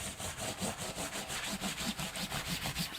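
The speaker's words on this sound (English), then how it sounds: "this is called a, I'm not quite sure, palm sander" Palm sander buzzing over wet alpaca and merino wool during felting, a fast rhythmic rasping pulse repeating evenly at close range, fairly quiet.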